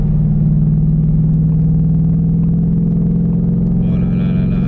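Deep, steady V8 rumble from a Ford Mustang Bullitt held around 2500 rpm, loud and close with a constant low drone and a faint higher whine near the end.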